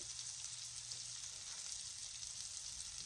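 Precooked packaged sausage sears in a hot pan, giving a steady, hissing sizzle that stays constant and fairly close, with no voices over it.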